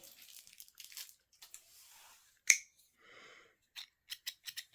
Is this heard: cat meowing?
no